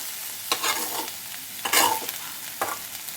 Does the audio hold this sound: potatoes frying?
yes